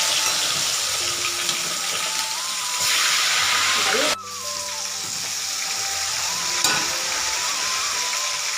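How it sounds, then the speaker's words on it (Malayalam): Pressure-cooked chicken pieces fry in hot oil with a bright, continuous sizzling hiss close by, briefly dipping midway before resuming, while someone speaks over the cooking. "ഇത് നമ്മൾ ഈ ഓയിലിലോട്ട് ഇട്ട് ഫ്രൈ ചെയ്യാം."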